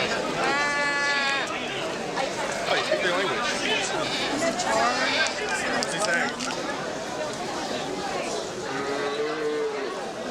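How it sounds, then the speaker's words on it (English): Goats and sheep bleat over and over at a busy livestock market in Oman, their cries overlapping through steady crowd chatter and talking voices. "Tourists flock to the goat markets."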